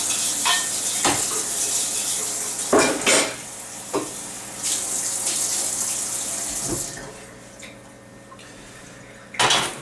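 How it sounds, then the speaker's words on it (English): A brush scrubs the inside of a cast iron bowl under a running kitchen tap, with steady water flow, scraping strokes and occasional sharp knocks of metal, close and fairly loud. "Take a brush, get it inside the bowl."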